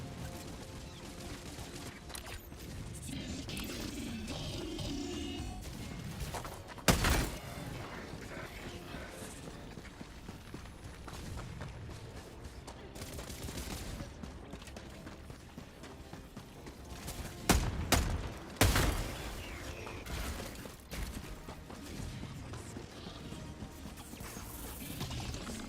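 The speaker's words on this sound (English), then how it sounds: "Oh, he's using an autocannon." Autocannon gunfire in Helldivers 2 on a high-difficulty mission against bots and bugs: sporadic heavy cannon shots and sharp crashes, some loud and close, a few in quick clusters, over a constant din of battle noise.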